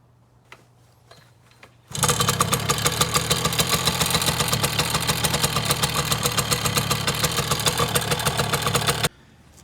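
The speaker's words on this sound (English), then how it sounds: "we're going to warm it up so that the oil becomes easy to drain out of the bike" Yamaha PW80 dirt bike engine starting and idling to warm up, a loud rapid buzzing putter that begins abruptly after a quiet start, holds steady and cuts off near the end.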